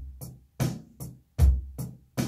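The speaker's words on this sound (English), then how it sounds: "If you add an extra hi-hat in between the basses and the snares, it would sound like this." A rock drum beat plays bass drum and snare with hi-hat eighth notes in between, a steady rhythm of punchy hits, near and clear, with no voices.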